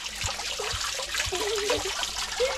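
A hand dips into fountain water at a farm holiday estate, producing soft splashing and trickling close by over a steady flowing water background, with no voices.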